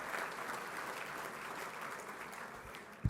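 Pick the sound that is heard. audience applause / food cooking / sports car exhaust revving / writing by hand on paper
audience applause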